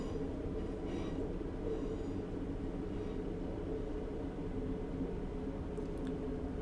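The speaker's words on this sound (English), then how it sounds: "And now just allowing the train to coast along here as we head towards Llandudno station." A train coasts steadily on the Blaenau Ffestiniog to Llandudno route in Train Simulator 2018, giving a low, continuous rumble of wheels on rails with faint clicks and no talk.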